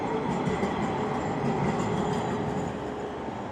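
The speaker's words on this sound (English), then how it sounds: "here's one of the Q line trains right now. So this is the Q lines, which is a nice streetcar" A QLine streetcar rumbles past on Woodward Avenue in Midtown Detroit, a loud, close, continuous rail roar with faint wheel clatter and a high whine, heard alone without talk.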